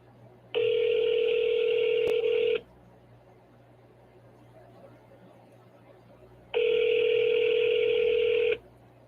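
An outgoing phone call rings back twice, each a steady two-second electronic tone with silence between, clear and close-miked.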